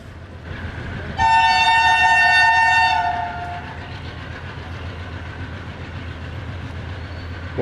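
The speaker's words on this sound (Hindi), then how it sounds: "पार्क बिजनेस एक्सप्रेस सामने से आ रही है जी उड़ती हुई।" A Business Express train, seen as an AG30 locomotive, speeding through Chanesar Halt station in Karachi, with a loud horn blast lasting about two seconds over the continuous rumble of the passing cars.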